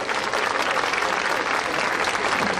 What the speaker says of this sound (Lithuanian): Pasitikite plojimais.